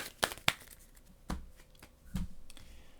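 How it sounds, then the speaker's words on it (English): Cards from a Marvel Champions encounter deck are shuffled back in, giving a few sharp papery riffles and slaps spaced out over a few seconds, fairly quiet and close. "we're going to shuffle this back into the encounter deck"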